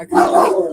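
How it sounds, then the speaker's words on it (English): A dog gives a single short, loud bark close by, clear and alone. "sorry about my dog barking"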